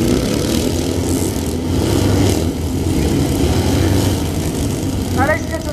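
Royal Signals White Helmets display motorcycles roar at a steam fair, their engines rising in a loud, continuous rush across an open showground, with a brief higher whine near the end.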